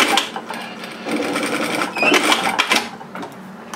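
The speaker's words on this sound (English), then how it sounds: "So it will back tack automatically at the beginning and automatically at the end." Siruba industrial lockstitch sewing machine running steadily and then back tacking automatically, a close mechanical whir and rapid needle clatter that surges around the middle before tapering off.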